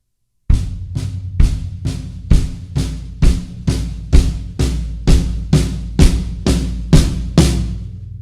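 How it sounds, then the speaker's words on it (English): A steady drum pattern of evenly spaced strikes on floor tom and snare, with kick drum hits underneath, played alone at a moderate tempo. "You can just do eighth notes on the floor tom and the snare drum."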